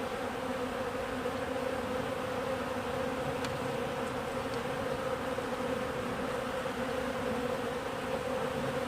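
Honey bees buzz around an open hive of brood frames during a late-season inspection. A continuous, even hum holds close by, with a few faint clicks and no voices.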